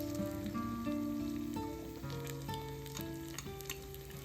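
Soya chunk paniyaram frying in oil in an appam pan while the pieces are turned one by one with a spoon or chopsticks, a soft continuous sizzle with light scraping and tapping, fairly quiet, and a steady musical tone running beneath it.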